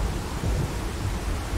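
Dense rain pours steadily with a low rumble of thunder underneath in a video game, Planet Nomads, a broad wash of noise with no voices.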